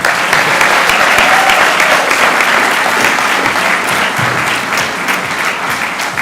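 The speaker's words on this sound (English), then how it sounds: "Round of applause again, please." Audience at the SciFest National Final applauds a young science competitor, a loud, full round of clapping that holds steady and eases slightly toward the end.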